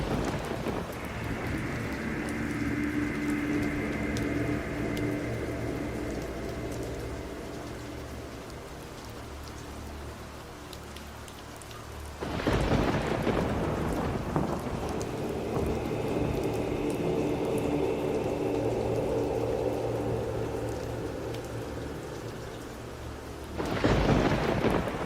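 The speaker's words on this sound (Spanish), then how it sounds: "Mientras el fragor sordo de los truenos subía en intensidad" A thunderstorm with steady, heavy rain hissing throughout, broken by two loud, close thunder crashes that roll and rumble away, one midway and one near the end.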